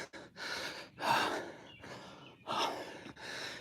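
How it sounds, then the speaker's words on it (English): Heavy, labored breathing from a hiker climbing a steep hill, with loud gasping inhales and exhales repeating in an uneven rhythm close to the microphone, no talking. "I must sound so stupid, like breathing so hard"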